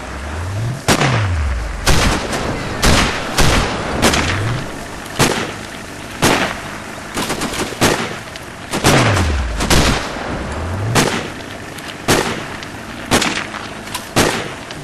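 Gunfire in the video game Sniper Ghost Warrior, a dense barrage of loud sharp shots and booming reports at irregular intervals, some followed by falling whooshes, continuing for the whole stretch.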